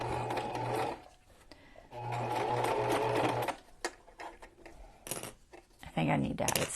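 A home sewing machine, in need of servicing and snagging as it stitches, whirs in two sustained runs separated by pauses, with soft handling clatter and brief noises afterward.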